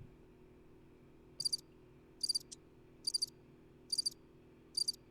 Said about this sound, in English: you hear the cricket